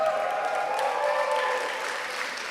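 A conference audience at DLD in Belgrade claps steadily, a soft, even wash of hands with a faint tonal hum running beneath it, with no talking.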